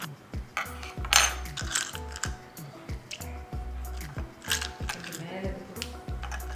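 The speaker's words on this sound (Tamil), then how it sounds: "நாங்கள் ஐஸ் க்யூப்ஸ் போட்டுருங்க பார்க்கலாம்." Ice cubes dropped into a mint vinegar drink, clinking and clattering in a quick irregular series of sharp knocks against the glass, close and clear with no talking.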